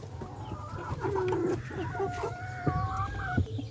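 Chickens cluck and chatter close by while pecking at melon pieces fed as a snack, a lively mix of short clucks and drawn-out calls throughout.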